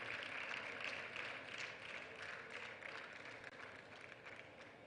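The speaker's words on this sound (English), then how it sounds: "Can I get another round of applause for Nanama, please?" A crowd claps steadily in sustained applause, a dense wash of many hands fading slightly toward the end.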